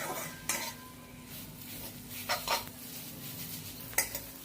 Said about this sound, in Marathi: त्यामध्ये थोडंसं मी अर्धा चमचा तेल टाकून परत परतून घेणार आहे